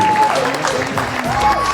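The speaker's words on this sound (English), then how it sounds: "Please give a round of applause to Dr. Sorochi Banseko" An audience claps for a speaker at a speech to a governor, a short burst of clapping that overlaps with a voice talking.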